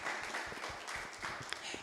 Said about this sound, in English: A round of applause for the two gentlemen,